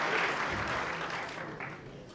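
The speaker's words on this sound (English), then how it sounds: "almost a standing ovation they're getting for that exhibition of snooker" A snooker crowd at the World Championship gives sustained, loud applause close to a standing ovation, a dense wash of clapping that fades slightly toward the end.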